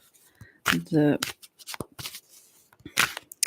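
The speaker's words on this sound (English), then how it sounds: "I hope that it's not too rough when I shuffle the cards close to the mic" Tarot cards are shuffled right against the microphone in short, crisp riffling bursts with papery flutters between, while a voice speaks intermittently.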